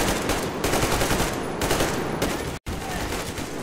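Rapid automatic gunfire with heavy recoil rattles continuously in the Metro Exodus video game, loud and dense with a split-second cut near the end.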